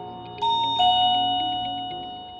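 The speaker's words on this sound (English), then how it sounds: "I pressed the button, and I was able to hear the chime inside the house." A Tronic WD 3602-BK wireless doorbell chime sounds alone indoors, two clear ringing tones struck in succession, loud and close, then decaying slowly over a couple of seconds.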